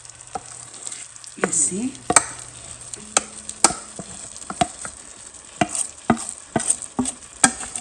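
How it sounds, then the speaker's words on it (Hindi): Moong dal roasts in a pan for a sweet halwa as a spoon stirs and scrapes it with sharp, irregular clacks against the metal over a light sizzle. The sound is near and fairly loud, and a voice speaks one brief word. "और अब जो है इसका असल काम शुरू होगा, यानी कि इसकी भुनाई शुरू होगी।"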